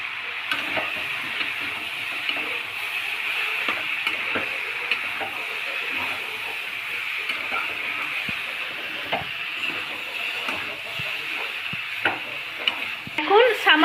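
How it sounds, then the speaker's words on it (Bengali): Spices are stirred into mixed vegetables in a cooking pot, a close, continuous scraping and clattering of a spoon over a soft sizzling hiss, with irregular knocks against the pot throughout. "এখন সমস্ত উপকরণগুলো সবজিগুলোর সাথে ভালোভাবে মিশিয়ে নেওয়া হচ্ছে।"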